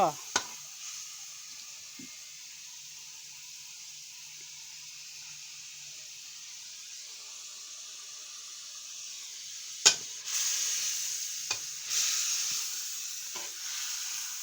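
Holy basil leaves stir-fried in a pan for a Thai fried egg and basil dish give a steady, moderately faint sizzle, with a few sharp utensil clatters toward the end.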